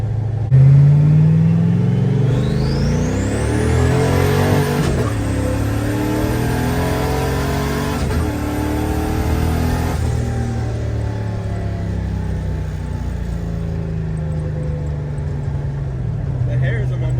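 A turbocharged Foxbody Mustang accelerates hard through its gears, loud rising engine sweeps broken by several shift drops and a climbing turbo whine, heard from the cabin with people talking over it.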